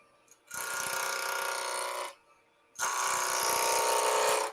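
A half-inch bowl gouge roughs wood on a lathe in two sustained bursts of harsh, buzzing cutting noise separated by a short quiet gap, close and steady while the tool engages.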